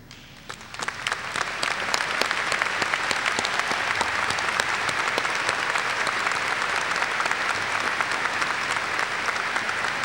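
A high school graduation audience applauds the standing teachers, many hands clapping in a dense, sustained crowd ovation that builds in the first second and then holds steady.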